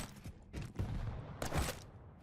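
Railgun shots in Quake Champions, a few sharp bursts of gunfire among the clatter of a match, close and fairly loud, with a brighter crack near the end.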